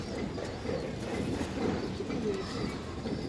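Pigeons cooing steadily at close range, soft low repeated coos layered into continuous murmuring, with no clear talk.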